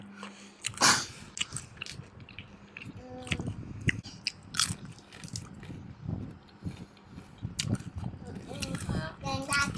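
Crispy baked squid snack is bitten and chewed close up, giving loud irregular crunches and crackles, with a person speaking intermittently between bites.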